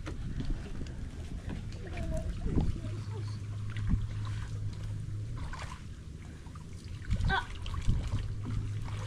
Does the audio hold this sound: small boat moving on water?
yes